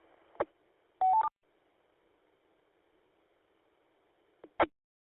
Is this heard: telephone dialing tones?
yes